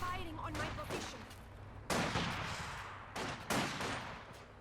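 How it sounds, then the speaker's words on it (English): Sniper rifle shots in the video game Company of Heroes 2, three sharp loud cracks spaced over a few seconds above a busy battle bed of distant gunfire, with a faint voice underneath. "Double miss by the snipers."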